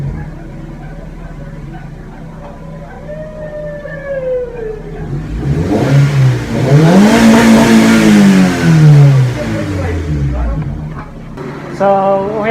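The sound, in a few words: car engine revving with newly installed muffler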